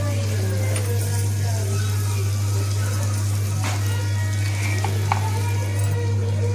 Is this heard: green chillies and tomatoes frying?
yes